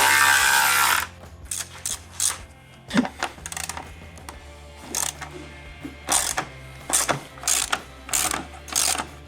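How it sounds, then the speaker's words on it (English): A ratchet with a 10mm socket backs out headlight screws on a Jeep Wrangler. Short bursts of rapid clicking come close up, with a louder clatter at the start and several brief ratcheting runs after it. "just need a 10mm socket."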